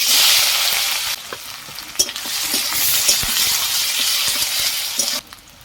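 Onion fries in hot oil over whole spices, a loud, continuous close sizzle broken by repeated stirring scrapes and taps, then a sudden drop in the hiss near the end.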